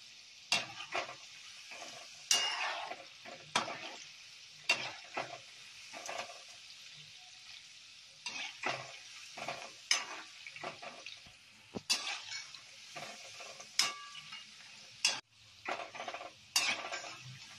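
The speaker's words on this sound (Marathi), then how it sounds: "शंकरपाळे तळताना आपण गॅस हा मीडियम ठेवायचा आणि एकसारखे असे हलवत राहायचे म्हणजे सारखे तळले जातात" Shankarpali, a sweet Marathi snack, fries in oil while a utensil turns it. Sharp scrapes and clinks repeat unevenly over a faint bubbling sizzle at close range, with no voice.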